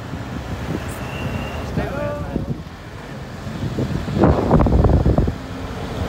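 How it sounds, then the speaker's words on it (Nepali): Strong wind buffets the microphone during a vehicle journey from Sundar Bazar to Rainaskot, a continuous low roar swelling louder near the end, with brief voices and faint tones breaking through. "हावा हुरिरहेर हाम्रो आवाज सुनिन्न होला"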